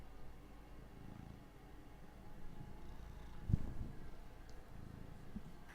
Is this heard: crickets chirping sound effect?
no